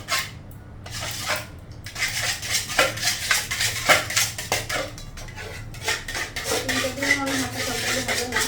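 A utensil scrapes and chops food in a metal pan while a breakfast is cooked, giving repeated clinking and scraping strokes at close range, with light kitchen clatter.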